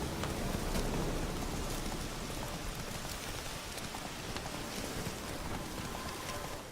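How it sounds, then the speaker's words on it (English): Steady rain in The Witcher 3: Wild Hunt patters and hisses continuously, a dense even wash of drops with no voices. "It's raining, it's pouring"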